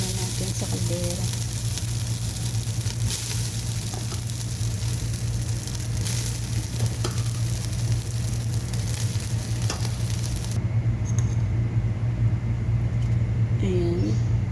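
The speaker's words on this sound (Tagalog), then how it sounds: "nagigisa na ako ng sibuyas para sa giniling" Onions sautéing in oil in a pan, to be used for ground meat, sizzling steadily and close over a constant low hum, with brief indistinct voices heard faintly in the background.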